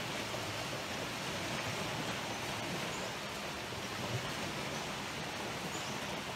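Steady rushing water flows without pause, a dense broadband wash that stays even and moderately loud throughout, with no voices.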